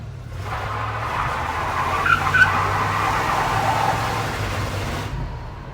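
Chevrolet Chevelle pulled from a barn drives off with its tires skidding, a steady broadband hiss of rubber over a low engine rumble, loud and close for about five seconds.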